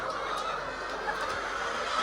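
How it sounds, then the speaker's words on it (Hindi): Desi hens, including a Golden Misri breed, cluck on a layer egg farm in Pakistan, soft scattered clucks over a steady background hum of the shed. "मुर्गियां जो हैं वो लाइव अंडे दे रही हैं"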